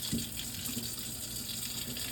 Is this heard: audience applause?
no